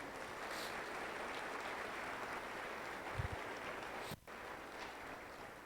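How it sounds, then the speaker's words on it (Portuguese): A church congregation applauds in a steady, dense wash of clapping that carries on evenly for several seconds at moderate distance, with no speech over it. "Vamos aplaudir ao Senhor por isso."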